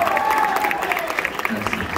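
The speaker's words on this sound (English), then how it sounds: "Give an applause for this gentleman, too." Audience applause at a hypnotist and comedy show at a university, a brief burst of clapping from the crowd mixed with a voice speaking over it.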